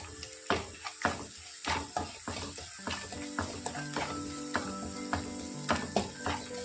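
Curry leaves dropped into hot oil in a pan for green chilli pickle, giving close, steady sizzling and crackling with sharp spitting pops spread through the whole clip, no voices.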